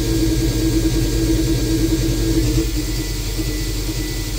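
A Haas VF0 vertical machining center spindle runs at about 3,000 RPM with a steady, loud mechanical whir and low rumble, unbroken throughout with no talk.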